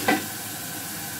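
Tomato paste hitting hot oil in a pan, a brief burst at the start that settles into a steady sizzle, close and alone.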